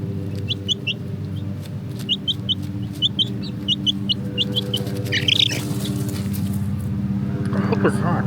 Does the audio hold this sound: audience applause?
no